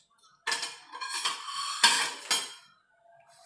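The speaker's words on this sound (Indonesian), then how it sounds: "Ambil piring dulu bos." Plates and cutlery clink and clatter as a plate is picked up for a meal of Indonesian vegetable lodeh, with a quick burst of bright metallic and ceramic knocks after a quiet start, then a faint rattle near the end.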